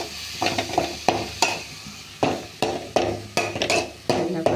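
Tomato with salt being sautéed in a pan: a utensil scrapes and stirs in repeated close bursts over a soft sizzle, with no talking.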